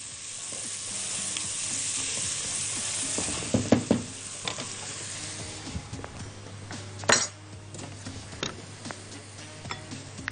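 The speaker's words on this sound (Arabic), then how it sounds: "نحمص عندي البصل" Chopped onions sizzle steadily in a pan of butter and a little oil, a loud close hiss with occasional scrapes and clinks of a utensil stirring against the pan.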